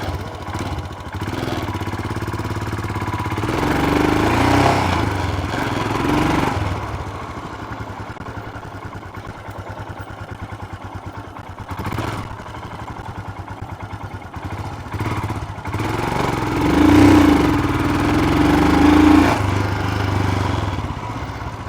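A Royal Enfield Himalayan motorcycle engine runs nearby, a steady idling thump that swells twice as the throttle is opened and then eased off.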